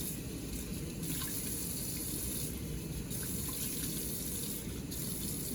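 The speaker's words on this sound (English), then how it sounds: "We're going to rinse it first with regular water." Steady gush of tap water pouring into a lab sink while glassware is rinsed, a constant close rushing flow with faint clinks and shifts in the spray.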